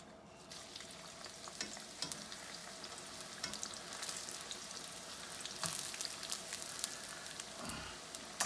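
Twice-fried fries crackle steadily in hot oil on their second frying, a faint, continuous sizzle scattered with sharp pops and spits, heard alone without speech.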